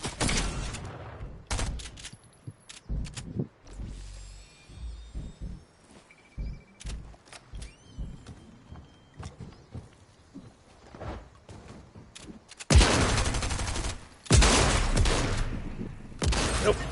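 Bursts of gunfire in the video game Fortnite, with scattered shots and rapid volleys in the opening seconds, then quieter mechanical clicks and weapon handling, ending in dense loud bursts of firing.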